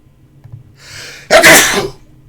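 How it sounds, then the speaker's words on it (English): A single sudden, violent sneeze bursts out close and loud after a short indrawn breath, then cuts off within a second. "Wow, that was a sudden and violent sneeze."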